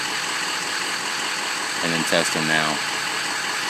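A diesel truck engine idles steadily during a key-on, engine-running glow plug test, a constant dense rumble heard throughout, with someone briefly speaking over it partway through.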